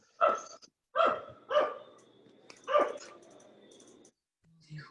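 A dog barks four times in a steady rhythm, sharp and fairly close, followed by a faint whine and a brief low sound at the end, heard at a university faculty building.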